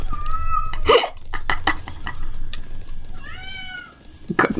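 A cat shut outside a door gives a brief meow at the start and a longer, wavering meow later, with scattered taps and clicks around it and no talking.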